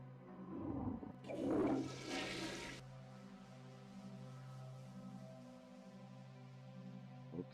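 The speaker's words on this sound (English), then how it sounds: "I need the toilet flush sound still" Toilet flush sound effect for a Half-Life 2 map, a brief loud rushing gurgle of draining water that cuts off after a second or two, leaving a low steady hum.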